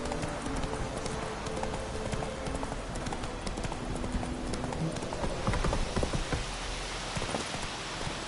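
Roach, a horse in The Witcher 3, trots with continuous clip-clopping hooves under a dense layer of rain, a busy, even rhythm that never lets up.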